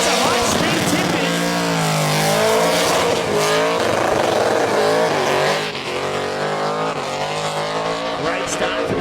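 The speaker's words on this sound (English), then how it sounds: "Great start for the skid. Big stones on the tip-in. Completely fogged in." A car performs a high-speed burnout at an open class burnout finals, the engine screaming at high revs with rising and falling pitch under a constant roar of spinning tyres, and a commentator talks over it.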